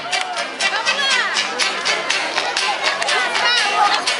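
Festa junina crowd clapping along with a rhythmic beat, steady repeated claps mixed with lively crowd chatter and a singing voice.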